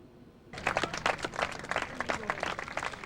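A party conference audience breaks into loud, sustained applause for an Iain Duncan Smith speech, dense clapping from a large crowd that starts suddenly after a quiet moment.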